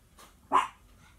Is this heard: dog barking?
yes